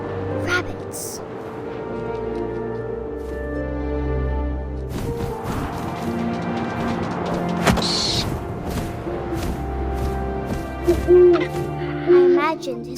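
An owl hoots in the video game What Remains of Edith Finch, mixed into a busy game soundscape with music and other effects, with a few more distinct calls near the end.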